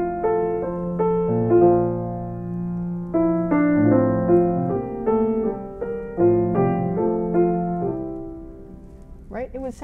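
Solo piano plays Schumann's Träumerei melody as a simple chorale without its big upward stretch, slow sustained chords rising and falling in a calm, moderately soft phrase.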